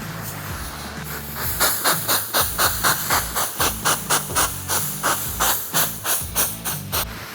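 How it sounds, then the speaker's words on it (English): A steady hiss of steam off a hot flat top griddle with rhythmic pulsing bursts, loud and close, repeating roughly every third of a second. "Be super careful, that is hot steam."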